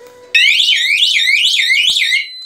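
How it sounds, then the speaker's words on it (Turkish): Sweeping electronic wail from two DESI burglar alarm sirens set off by a panic button, kicking in abruptly and cycling loudly in rising and falling sweeps for about two seconds before cutting out. "bastıktan sonra alarmların ikisi çalınmaya başlıyor."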